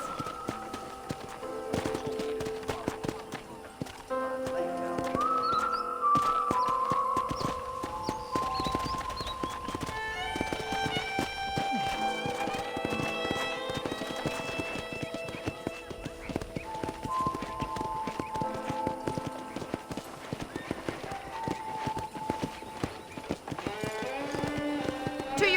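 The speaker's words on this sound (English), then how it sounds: "Okay, let's see if you can still ride a horse." Horse hooves clip-clopping at a steady walking rhythm while riding in the video game Red Dead Redemption, continuous and moderately close, with game music and occasional distant sounds underneath.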